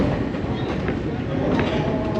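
A train on the New Hope Railroad rolls along the rails, a loud, steady rumble with rhythmic clacking heard from on board.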